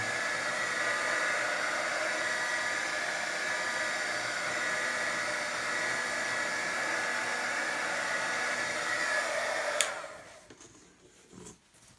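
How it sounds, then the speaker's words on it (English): A loud, continuous blowing whoosh from an embossing heat tool drying paint on canvas runs for about ten seconds, then cuts off abruptly into near silence. "This is not a hair dryer. This is an embossing tool."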